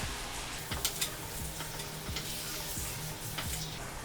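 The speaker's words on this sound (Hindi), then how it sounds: "मटन डाल के भूनेंगे वापस लगभग 5 मिनट तक" Mutton pieces browning in a hot pan for Kashmiri rogan josh give a steady close sizzle, with a few sharp ticks and scrapes of stirring scattered through.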